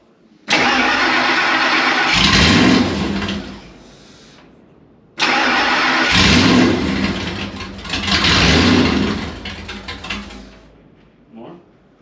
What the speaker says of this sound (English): Go ahead and crack the throttle if you can.